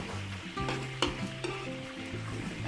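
Onion sautés in a pan with lots of garlic for a Filipino fiesta dish, giving a continuous close sizzle with a few sharp utensil clicks and scrapes and no voices.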